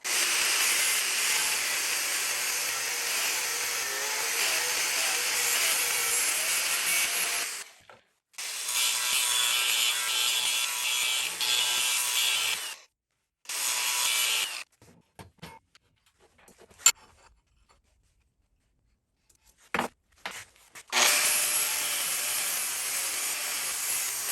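A cutoff wheel grinds century-old wood studs down to a line in loud, harsh bursts of several seconds each, separated by pauses, then a few short touches and clicks before one last long run.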